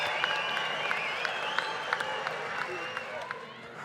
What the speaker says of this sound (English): And listen to the crowd, Willie.